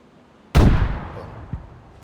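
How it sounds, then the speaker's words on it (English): A grenade goes off in the video game DayZ, one loud sudden blast that rings and fades, followed by a smaller thud about a second later. "Unpin it. Throw it. And boom. So there's our grenade."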